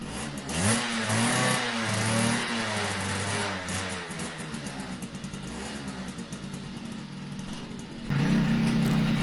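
A new motorcycle's engine revs steadily while being ridden, a loud, continuous mid-pitched drone with shifting throttle surges that jump in level near the end; no one speaks.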